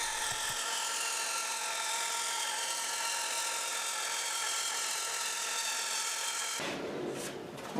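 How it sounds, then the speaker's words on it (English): A bandsaw cuts steadily through a padauk board in an automated slicing rig, a loud continuous whine with bright harmonics that holds for about six and a half seconds before the blade breaks free and the tone drops away. "let me go ahead and mount this on the bandsaw, and then we'll do some cuts on it"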